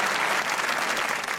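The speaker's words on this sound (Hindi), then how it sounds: "इनके लिए तालियां होनी चाहिए एक बार।" A short burst of studio audience applause on a Pakistani comedy talk show, dense steady clapping at a constant level with no voices over it.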